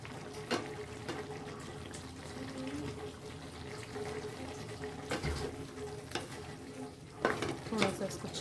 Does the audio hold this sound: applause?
no